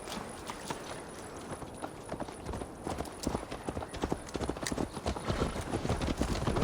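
Rapid clip-clop of a horse's hooves as Eivor rides in Assassin's Creed Valhalla, steady galloping beats close and continuous, building slightly louder toward the end.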